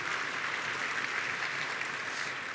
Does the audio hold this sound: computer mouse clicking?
no